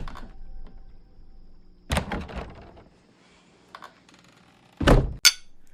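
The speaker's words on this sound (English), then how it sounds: "Can you close the closet door?" A closet door shuts in a quiet room with a single solid thunk near the end, after some earlier rustling and knocking movement.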